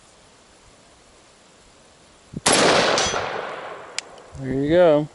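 A single loud, ringing metallic strike on a roughly 12-inch steel target downrange from a rifle with a 7.5-inch barrel, decaying over a second, followed by a brief voice.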